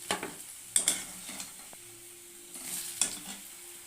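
Black cumin seeds and spices frying in hot oil for a tengra fish and potato curry, a soft, low sizzle with a few quiet stirring scrapes and taps.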